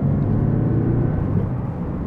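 A Lexus car engine revs in a deep, steady rumble, close and loud, holding a broad low drone for about two seconds with no talking over it.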